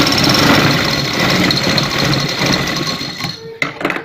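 Sewing machine stitches a shalwar in a continuous fast mechanical whir with rattling vibration, stopping near the end with a few faint clicks.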